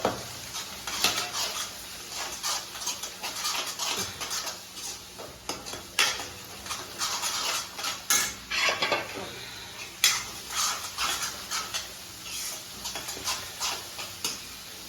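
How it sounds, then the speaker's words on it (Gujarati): Onion curry being stirred with spices in a pan, a Kathiyawadi-style onion sabzi, gives repeated scraping and clinking of a utensil against the metal pan, close and steady, with faint sizzling and no talk. "આ રીતના બધું મસ્ત મિશ્રણ કરી દેવાનું."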